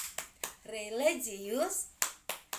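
Children in a classroom doing a rhythmic clapping chant, sharp claps spaced between sung or chanted words.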